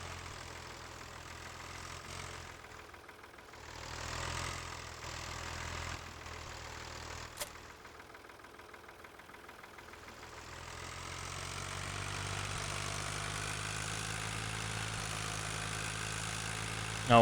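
A tractor engine idles in the farming video game Farming Simulator 2013, giving a steady low drone that dips and swells in level before settling into a louder, even hum, with no voices.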